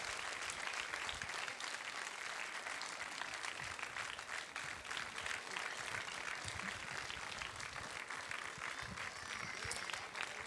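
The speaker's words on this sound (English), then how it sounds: "I think you should not feel tired for clapping." Audience applause at a Sangeet Symphony music event, steady dense clapping from a crowd that carries on evenly throughout, fairly faint and distant.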